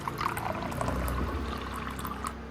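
Water poured into a pan holding paneer pieces in a home kitchen, a soft continuous trickle and splash lasting a couple of seconds at moderate level.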